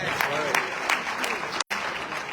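Applause in a press conference room, a dense crowd clapping with a few louder individual claps, briefly cut by a short dropout before the clapping carries on.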